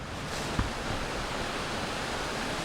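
Steady broadband rush of a waterfall beside a campsite, now running tamer, a constant close wash of falling water with one brief knock early on and no voices.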